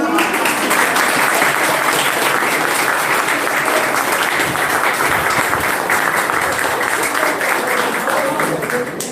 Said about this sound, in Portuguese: Vamos aplaudir a